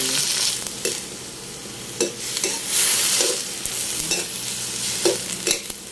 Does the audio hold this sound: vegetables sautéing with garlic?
yes